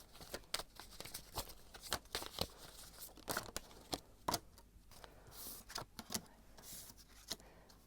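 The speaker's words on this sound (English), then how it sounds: "But I'm going to shuffle and see what the cards have to say about your living situation" Tarot cards being shuffled, close up: a string of crisp, papery riffles and slaps in uneven bursts, with no talking over them.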